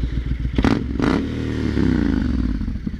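Triumph Scrambler 900 motorcycle engine running close by, a steady low rumble with a couple of brief sharper bursts near the start, no talking.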